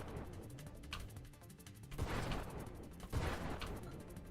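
Pulse weapon bursts in the space shooter Nova Drift, a few soft muffled blasts spaced irregularly over a busy low rumble of game effects, faint overall.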